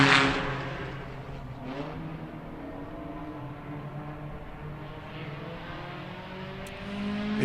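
A race car at a time attack event brakes hard into a sharp left-hander, a steady loud engine drone with shifting pitch that dips and then swells again near the end, heard without voices.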